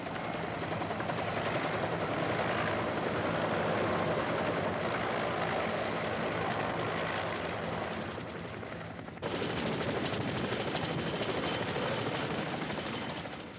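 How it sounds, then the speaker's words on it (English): Continuous heavy rotor and engine roar of helicopters landing on an embassy roof and compound in Vietnam, loud and steady throughout, with a brief dip and abrupt change in tone partway through. "the helicopters can now only land on the embassy roof or in its secluded compound"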